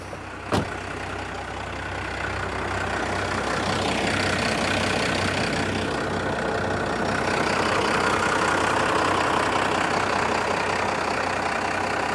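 A 1992 Dodge Ram D250 diesel fitted with a Banks PowerPack idles with a steady low clatter and rumble, close and even, after a brief sharp click near the start; no one speaks.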